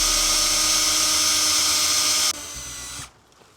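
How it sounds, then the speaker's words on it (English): A power drill whines at high speed for over two seconds in a steady, loud, close run, then drops to a lower hum before stopping, during fibre broadband installation work. "Let the drill do the work."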